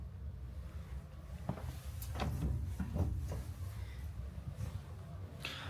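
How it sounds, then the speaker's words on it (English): A drawer in a Miami rental home is pulled open with a few scattered clicks and a short sliding scrape, set over a low room rumble and quiet throughout. "And I just pulled out Olivia from my drawer"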